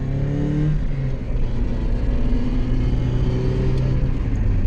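A Mazda MX-5 engine revs loudly and steadily from inside the car during a downshift on a winding Florida road, with strong rising engine tones and no talk.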